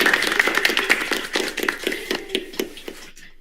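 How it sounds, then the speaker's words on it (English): Scattered hand claps from a small audience, a dozen or so uneven slaps that thin out and stop, fairly close and moderately loud with no talking. "Clap, clap, clap, clap, clap,"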